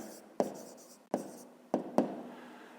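A pen or pencil writing by hand during a fifth-grade math exercise gives four sharp taps and scratches spread over a few seconds, close and quiet with no talking.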